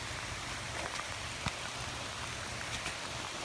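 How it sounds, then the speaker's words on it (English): Heavy rain pouring outdoors during a metal detecting dig, a dense steady hiss of falling water with faint scattered drips and taps, continuous and enveloping, without talk. "it's still pouring"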